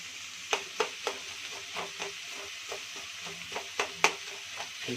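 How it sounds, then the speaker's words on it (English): Sliced onions frying in a pan, a soft steady sizzle punctuated by repeated scraping clicks of stirring, close and fairly quiet, with no talking. "So sliced onions, add it and mix at least 10 minutes. Fry light pink color."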